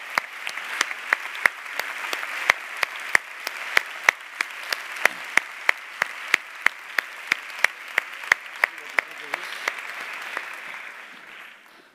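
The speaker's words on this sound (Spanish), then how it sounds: "Vamos a darle un fuerte aplauso a Petra Martínez y Juan Margallo" Conference audience at an opening lecture of a medical congress gives loud, sustained applause, dense and close, with sharp individual claps punctuating the roar throughout.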